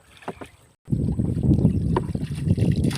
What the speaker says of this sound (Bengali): দাদা নৌকা বাইছে, দাদা হচ্ছে নৌকার মাঝি